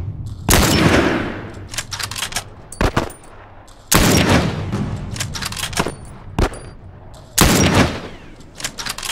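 Sniper rifle fire in The Last of Us, heavy booming shots loud and close, coming in several bursts with rattling tails and short pauses between them, no talking.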